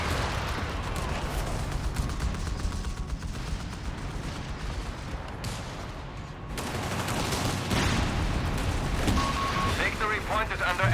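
Regular grenades explode amid scattered gunfire during a 2v2 Company of Heroes 3 match, the muffled blasts and crackle sounding under a commentator's ongoing talk.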